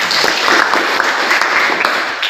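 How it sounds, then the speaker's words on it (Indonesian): Short burst of classroom applause during a Christian religious education lesson at a teacher-training program in Ambon, dense clapping from a group of students, fairly loud and close. "bagus sekali tepuk tangan kalau gitu"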